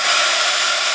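A heat tool blows hot air to set embossing powder on a card, a loud, steady, close whoosh that holds without a break for the whole second.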